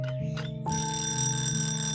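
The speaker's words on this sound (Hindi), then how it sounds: "अभी थोड़ी देर में अलार्म बजेगा" An alarm clock goes off in a home early in the morning, a bright electronic tone that begins abruptly after a brief low hum and keeps ringing steadily and close.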